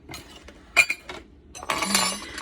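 A utensil stirs granola ingredients in a bowl, making light clinks and scrapes against the dish in short scattered bursts, then a denser stretch of rattling and scraping toward the end, close and fairly quiet.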